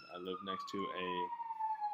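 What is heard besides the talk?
sirens from a nearby fire station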